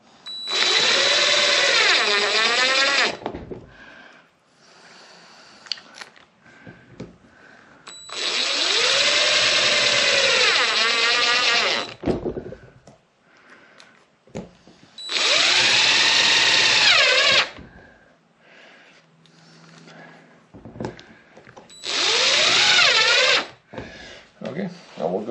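A power drill whirs in four bursts of a few seconds each while driving large screws into a solar generator build, and the motor pitch rises and falls with the trigger. Quiet handling noises and a voice fill the pauses.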